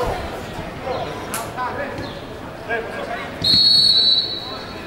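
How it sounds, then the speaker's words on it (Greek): A referee's whistle at a professional football match between Pafos and Xanthi sounds as one sharp, shrill blast of just under a second, loud over crowd murmur and a commentator's voice. "Γιατί σφυρίζει πάλι"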